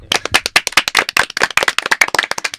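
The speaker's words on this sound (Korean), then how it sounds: "박수 한번 칠까요?" A small audience claps at a Korean university talk show, a quick burst of distinct, close hand claps in an uneven patter lasting a few seconds, with no talk over it.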